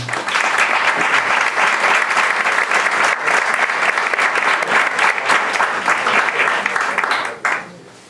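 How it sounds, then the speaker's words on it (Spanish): Loud, full applause from the audience at a family constellations congress, dense clapping from many hands sustained for about seven seconds before it quickly dies away. "A todos ellos, un fuerte aplauso por el trabajo que han realizado."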